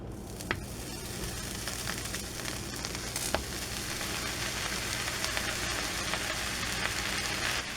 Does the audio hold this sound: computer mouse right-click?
no